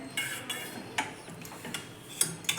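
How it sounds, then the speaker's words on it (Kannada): A utensil mashes boiled peas and potatoes in a pan, giving a series of light metallic taps and clinks at a roughly regular pace over soft scraping, close and fairly quiet. "ಸ್ವಲ್ಪ ಈ ಥರ ಸ್ಮ್ಯಾಶ್ ಮಾಡ್ಕೊಳ್ಳಿ ಬಿಸಿ ಇದ್ದಾಗೆ ಮಾಡ್ಕೊಳ್ಳಿ ಚೆನ್ನಾಗಿ ಸ್ಮ್ಯಾಶ್ ಆಗುತ್ತೆ"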